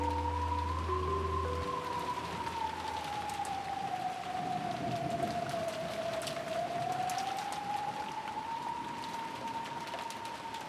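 Steady rain in the Umineko visual novel hisses on without a break for the whole stretch, while a wavering tone slides slowly up and down above it.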